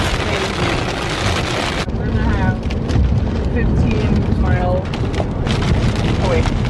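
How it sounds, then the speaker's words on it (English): Heavy storm noise carries 50 mph wind, pouring rain and pea-sized hail, a dense roar buffeting the microphone throughout, with voices talking over it. "The storm is crazy right now."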